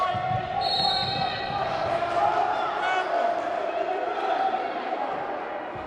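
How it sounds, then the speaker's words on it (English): Basketball arena crowd reacting with loud, restless shouting as fans call for a foul, a continuous roar with ball bounces and squeaks mixed in beneath. "The crowd was looking for a foul call as Jaron Jones was grabbed"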